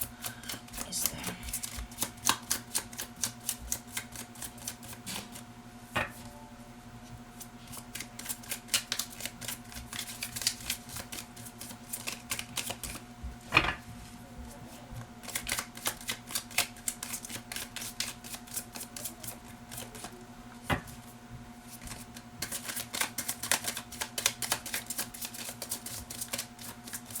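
Wild Unknown Tarot cards, a little sticky, being shuffled close up in repeated dense bursts of soft slapping and riffling, with brief pauses between runs.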